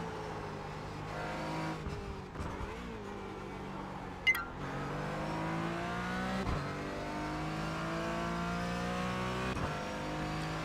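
Engine of a race car in iRacing winding down through several quick downshifts under hard braking, short sharp shift clicks, then climbing revs as it powers out; loud, close and continuous, without talk.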